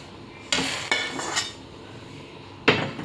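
Dry roasted gram tipped into a hot pan for dry roasting with no oil, making a few sharp rattling clatters against the metal: one burst, a second close behind, then another after a pause.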